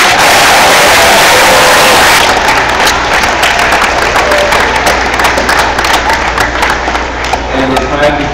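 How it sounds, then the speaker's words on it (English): Audience applause at a school assembly for Mr. Maher Day, honoring guests and the mayor: loud, dense clapping fills the room from the start, then thins into crisper individual claps that continue steadily to the end. "Let's give them one final round of applause, please."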